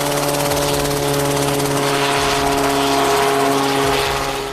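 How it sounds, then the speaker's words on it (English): A helicopter lands near a ship trapped in Antarctic ice floes. Its rotor and engine make a loud, steady, droning hum close by, with a low rhythmic thump running under a constant whine. "The helicopter crashed while landing near a ship trapped in Antarctic ice floes"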